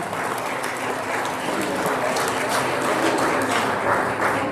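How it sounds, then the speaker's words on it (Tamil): An audience clapping for child performers at a stage event, a steady wash of many hands applauding without pause, moderately loud and continuous throughout. "நம்ம கண்டிப்பா கைத்தட்டியே ஆகணும்."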